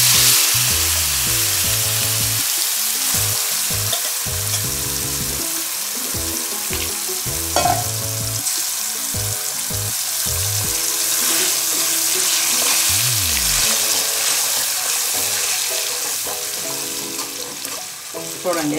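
Black brinjal (eggplant) chutney hits a hot pan and sizzles steadily and loudly for the whole stretch, a dense hissing fry with soft music running underneath.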